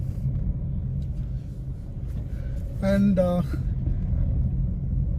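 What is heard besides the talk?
Mahindra XUV 300 engine pulling in second gear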